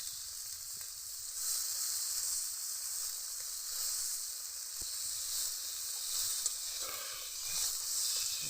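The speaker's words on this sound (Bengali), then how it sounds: "মটরশুঁটি আলু ভালো করে কষিয়ে নিলাম" Peas and potatoes sautéing in a pan for samosa filling give off a steady, close sizzle, with faint scrapes and stirring clicks breaking through now and then.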